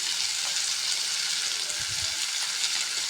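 Onions, salted lightly, sizzle and fry steadily in a pan while being stirred, a constant close crackling hiss with a few soft scraping stirs and no talking.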